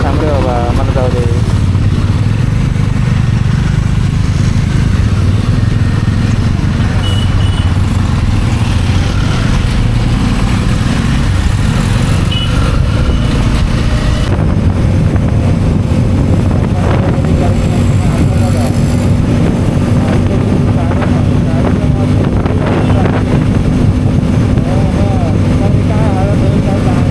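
Bajaj Pulsar N250 motorcycle riding on the road, a steady loud engine drone mixed with heavy wind rush, continuous for the whole stretch, with a voice talking over it at times.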